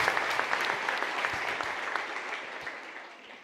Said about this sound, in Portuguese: Dá um aplauso ao Senhor, em nome de Jesus.